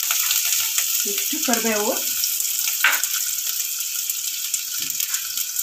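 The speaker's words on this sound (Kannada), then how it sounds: "ಈರುಳ್ಳಿ ಹಾಕ್ಕೊತೀನಿ, ಫ್ರೈ ಮಾಡಬೇಕು" Onions sizzle in hot oil for Andhra palak pappu, a steady bright frying hiss throughout, with someone speaking briefly over it.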